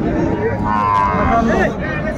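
A Sahiwal bull calf lows at a busy cattle market in Dinajpur, a loud, drawn-out moo up close with market voices in the background.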